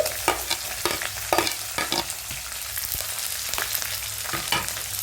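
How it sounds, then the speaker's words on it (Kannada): Green chillies and onion sizzle in hot tempering oil for upma, with crackling and spattering throughout and several sharp stirring scrapes of a spoon against the pan. Close and steady, with no voices. "ಈಗ ನಾವು ಒಗ್ಗರಣೆಗೆ ಹಸಿಮೆಣಸಿನಕಾಯಿ ಹಾಕ್ತಾ ಇದೀವಿ ಮತ್ತು ಈರುಳ್ಳಿ ಹಾಕ್ತೀವಿ"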